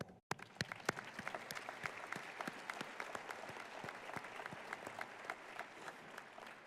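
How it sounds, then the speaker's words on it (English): High school graduation ceremony audience applauding parents and families, a soft crowd of clapping with distinct nearer individual claps standing out in an irregular rhythm, fairly quiet overall. "So let's give them an applause."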